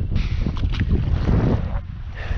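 Wind gusts across a small fishing boat on Lake Wallula on the Columbia River, a steady broadband rush with low rumbling buffeting close to the microphone, lasting throughout with no talking.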